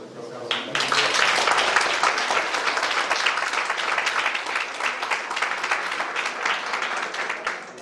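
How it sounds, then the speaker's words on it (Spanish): An audience applauds a doctor after his talk on workplace harassment. Dense, fairly loud clapping starts after a brief voice and holds steady for several seconds before thinning slightly. "le damos un aplauso al doctor Carlos"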